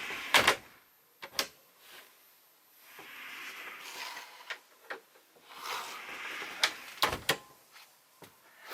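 Cabin door on a 2020 Malibu Charming Coupe 640 boat swinging shut, heard as a few sharp knocks and clicks spread across a quiet interior, with a final firm latch-like thud near the end.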